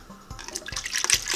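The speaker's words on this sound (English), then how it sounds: "And then we're just gonna pour this in here." Sun tea pours from a container into a clean pitcher, a brief, close, gurgling splash that swells and grows louder over about a second, with no voices.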